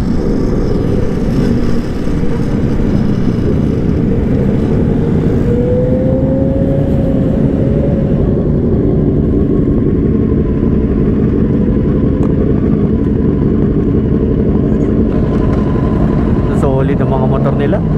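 Motorcycle fitted with an R11 aftermarket exhaust, one of several liter bikes, revving with a steady loud engine drone throughout, rising in pitch midway, while a voice talks over it.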